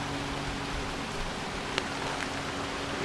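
Steady rain falls in the woods near a pine on day nine of a ten-day cabin-loop backcountry trip, a constant soft hiss with a couple of brief louder drip taps, heard alone without talk.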